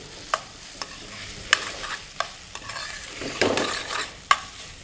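Potatoes and peas stirred and fried in a pan while making aalu mutton tehri: a spoon scrapes in sharp, irregular strokes over a soft, steady sizzle, close up and without talking.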